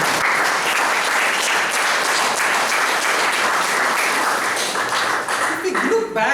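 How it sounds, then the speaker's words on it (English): A meeting audience applauds steadily and loudly for several seconds, the dense clapping filling the room before it thins and fades near the end. "I think we need to applaud for his efforts."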